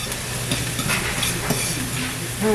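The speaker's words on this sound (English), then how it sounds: "I need to let the onions get a little brown" Onions browning in a hot pan give off a close, crackling sizzle, with a few stirring scrapes and clatters scattered through it.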